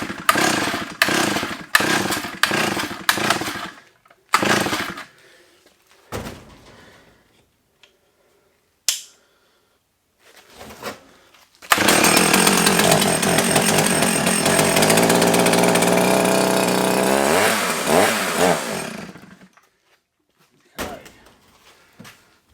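A 45-year-old Solo 660 AV chainsaw with carburetor trouble gives several short sputtering pull-start bursts, then catches and runs loudly for several seconds with uneven revving before dying, followed by a couple of brief knocks.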